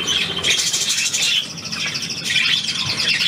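A pet budgerigar chirps and twitters at close range indoors, a steady stream of bright chattering calls that runs on for several seconds without pause.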